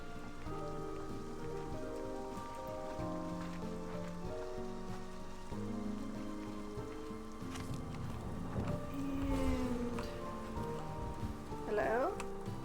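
Rain patters down in Slime Rancher 2, a soft steady shower with drops tapping on surfaces under game music and tones, and a few louder splashy bursts near the end.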